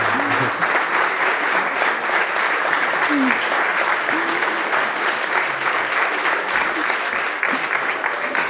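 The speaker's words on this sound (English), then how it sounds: "That's a big applause." Sustained audience applause from a crowd at a startup founders' event, dense and even clapping that holds steady throughout and fills the room.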